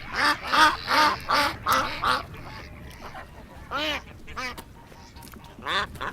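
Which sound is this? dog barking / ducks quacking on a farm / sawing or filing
ducks quacking on a farm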